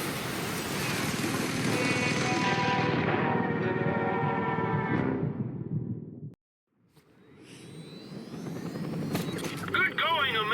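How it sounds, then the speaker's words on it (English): Helicopter in the video game Just Cause on Senjakala Island: a sustained rotor and engine roar with whooshing, which cuts out briefly and then swells back in alongside other game sounds. "I'll be right behind you in the chopper."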